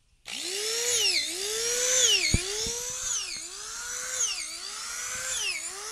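A drill bores holes into a log that is being prepared for growing shiitake mushrooms. Its high motor whine rises and falls steadily as the bit presses into the wood, loud and close, with no voices over it.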